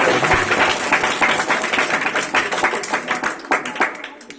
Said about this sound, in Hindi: बेटा जोरदार ताली।